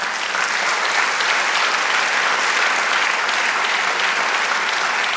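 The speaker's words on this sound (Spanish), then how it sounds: "Den un aplauso al Señor" A church congregation applauding the Lord during a sermon, loud, dense and sustained clapping filling the room without a break.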